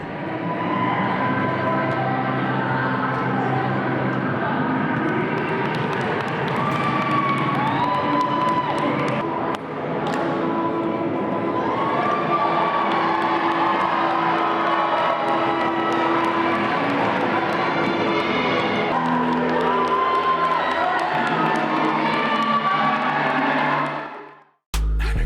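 The Del Campo cheer team performing at a festive high school sports event, loud crowd cheering and shouting throughout, sustained and energetic, cutting off abruptly at the end.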